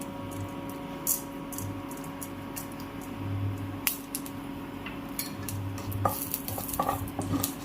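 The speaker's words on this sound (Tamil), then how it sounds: "இப்போ நம்ம கடுகு, உளுத்தம் பருப்பு போட்டு தாளிச்சிக்கலாம்." Mustard seeds and urad dal hit hot oil in a pan for a mint thuvaiyal tempering, sending up a steady close sizzle dotted with sharp crackling pops and some stirring scrapes, with no talking.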